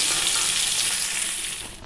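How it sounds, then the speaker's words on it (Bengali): Loud, steady sizzling and crackling of whole spices (dried red chillies, whole garam masala, bay leaves and cumin seeds) frying in hot oil, a dense hiss filling the whole clip with no talking. "এবারে ফোড়নে দিয়েছি শুকনো লঙ্কা গোটা গরম মশলা তেজপাতা আর গোটা জিরে"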